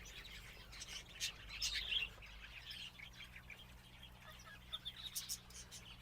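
Faint, scattered budgerigar chirps and tweets over a low steady hum, with a brief busier burst of calls early on.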